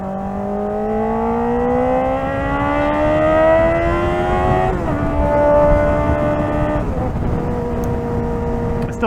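A Kawasaki ZX-4RR motorcycle engine screams at high RPM, rising in pitch, then dropping at two gear shifts, a loud, close, continuous high-revving wail.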